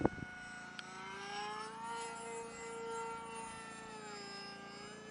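A small electric motor of a HobbyZone Aeroscout RC model plane whines steadily at half throttle with a high, slightly wavering pitch, heard outdoors after a brief knock.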